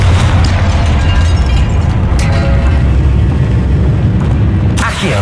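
The Confringo blasting spell goes off in Hogwarts Legacy as a loud, dense rumbling boom. Heavy low-end energy fills the whole stretch, and a few sharper cracks are mixed in, with a final burst near the end.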